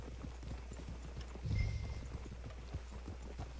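Horses in the Red Dead Redemption 2 video game clip-clop in a steady, fairly close rhythm of hoofbeats, with a brief louder thump partway through.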